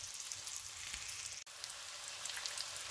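Salmon fillets frying in a pan give a steady, close sizzle that runs evenly throughout, broken only by one instant of near silence midway.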